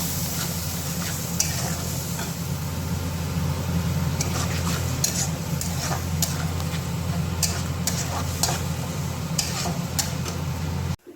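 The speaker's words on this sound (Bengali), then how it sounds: "ভালো করে কষে নিই।" Fish curry spice paste stir-fried in a pan, sizzling steadily throughout with a low hum beneath and repeated sharp scrapes and clicks from stirring, close and fairly loud with no voices.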